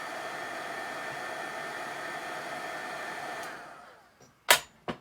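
Heat tool blowing hot air to melt embossing powder, a steady close whooshing hum that winds down near the end, followed by a couple of sharp clicks or taps.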